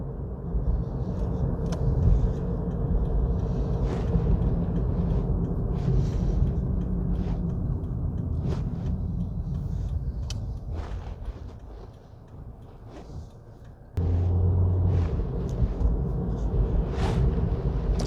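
A 2012 Toyota Corolla 1.8 with an anti-lock brake fault drives on the road, heard from inside as a steady low engine and road rumble with scattered bumps. The noise drops briefly to a quieter lull before surging back.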